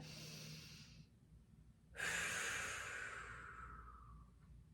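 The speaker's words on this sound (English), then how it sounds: "So all I'm going to do is take a big breath in and out." Diaphragmatic breathing heard up close and quiet: a soft breath ending, a pause, then a long, airy exhale that slowly fades.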